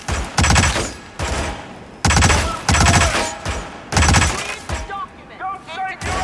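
Rapid bursts of gunfire from the Hitman video game come in several loud fusillades, each cutting out abruptly, with a player talking between and over the volleys.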